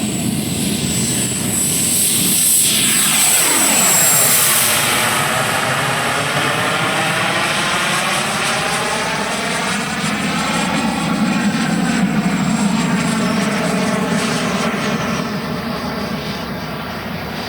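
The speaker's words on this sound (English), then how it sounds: "we're gonna fly with cheater holes open, especially designed to create jet sound" A Black Horse Viper XL electric ducted-fan RC jet with 100mm WeMoTec Midi EVO fan on 14s power, flying with cheater holes open, gives a steady loud whine that swells and fades with shifting pitch as it passes overhead and circles.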